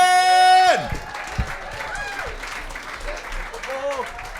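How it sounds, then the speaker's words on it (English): Crowd applause at a Yuk Yuks comedy club in Vancouver, starting with a burst of clapping and cheering that fades under someone speaking over it. "Keep that applause going, Vancouver, for your next performer"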